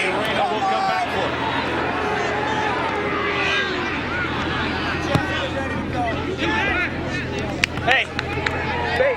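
A large standing-room-only crowd roars and murmurs steadily at the 1993 NCAA Division I men's soccer final, Virginia versus South Carolina, dense stadium hubbub with cheers and whistles swelling near the end, a voice calling briefly over it.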